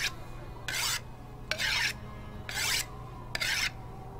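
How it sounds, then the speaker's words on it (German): A knife is sharpened on a whetstone in the video game Vampire: The Masquerade - Bloodlines: four evenly spaced, bright rasping strokes, each about a third of a second long, over a low ambient hum. "Na, wer schleift da sein Messer?"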